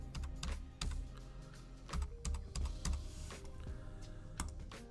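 Rapid, uneven key clicks from typing a password on a computer keyboard, close and fairly quiet, with irregular bursts of taps and short pauses and no talking.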